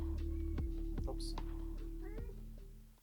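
A pet cat meows a couple of times, close and fairly loud, while faint background noise and a steady hum continue underneath.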